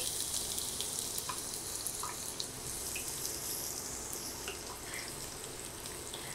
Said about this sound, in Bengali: পেঁয়াজটা গোল্ডেন কালার হওয়া পর্যন্ত আমি ভেজে নিব